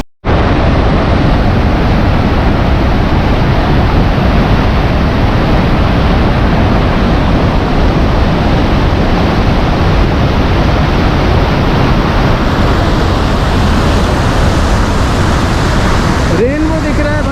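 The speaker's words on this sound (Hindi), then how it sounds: "पानी का बहाव बहुत तेज है।" Iguaçu Falls in Brazil roars with a loud, unbroken rush of falling water, a dense wall of noise that holds steady throughout with no voices rising above it.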